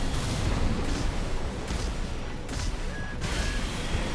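Sawa weapon in the mech game Armored Core 6 firing repeatedly, heavy booming shots in a dense, loud barrage over constant battle noise, with no talking.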